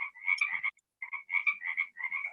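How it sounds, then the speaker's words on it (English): Frogs croak in quick, bubbly bursts of calls, fairly faint and with a short silent gap partway through. No other sounds are present. "I love those frogs."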